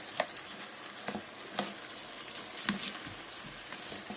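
Rice frying in ghee being stirred in a pan, a steady close sizzle with soft scraping stir strokes and light clicks of grains throughout.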